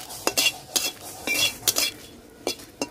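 Dry bay leaves and dried red chillies are tossed and stirred in a hot dry pan, giving a run of sharp scraping and clinking utensil strikes with a faint crackle underneath, close up and without any talk.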